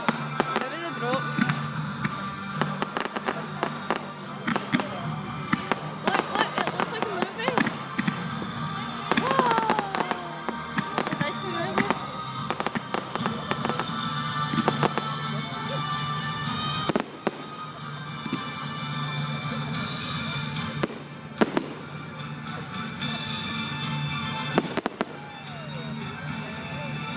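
Fireworks go off in a long, dense barrage of sharp cracks and booms, some louder bursts standing out, while people talk underneath.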